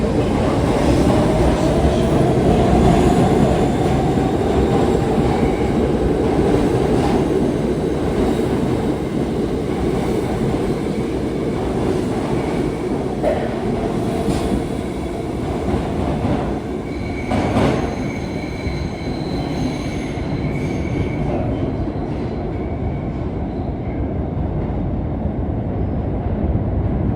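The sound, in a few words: New York subway train running and wheels squealing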